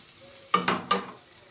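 A spice paste with soaked raisins is stir-fried in a pan, heard as three quick scraping, sizzling strokes close by, each fading fast against a quiet background.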